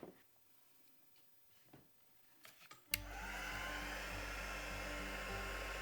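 A heat tool used to melt black embossing powder switches on after a few soft handling clicks, then gives a steady, close whirring blow like a hair dryer until the end.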